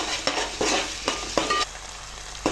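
Homemade ginger garlic paste fries in a hot pan for a chicken curry, a close, constant sizzle punctuated by rhythmic scrapes and knocks of a spoon stirring it.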